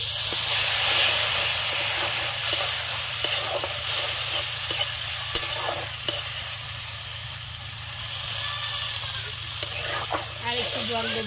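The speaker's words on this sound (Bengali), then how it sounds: "এবারে জল দিয়ে দেবো।" Water hits a hot frying pan of spicy Tengra fish curry, giving a steady, close hiss and sizzle with stirring scrapes and clinks over a constant low hum.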